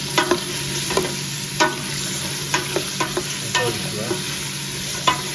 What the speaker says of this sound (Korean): 저는 버터 없이 올리브오일로만 볶겠습니다.